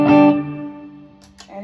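A guitar run through a multi-effects pedal with reverb, feeding a looper: a strummed chord rings out and decays into a washy tail, then a couple of short scratchy strums follow.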